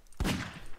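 A single sharp gunshot in the Garry's Mod video game, fairly faint, followed by a short fading tail.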